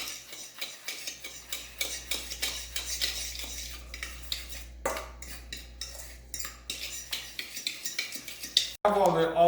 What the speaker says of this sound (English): So what you do is you mix it up properly.